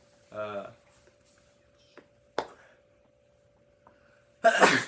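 A single sharp sneeze near the end, preceded by a short spoken phrase and a few faint clicks in an otherwise quiet room.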